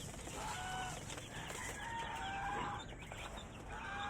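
Small newly hatched chicks kept apart from the bigger birds, chirping in thin, high peeps scattered across the clip at a modest, steady level.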